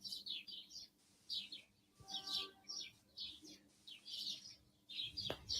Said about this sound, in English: you hear the birds chirping like it's maybe the morning.